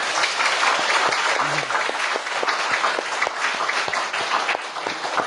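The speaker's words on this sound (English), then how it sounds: "You should applaud them." An audience at a spiritual talk applauds, a dense, steady burst of many hands clapping at close range that holds for about five seconds without anyone speaking.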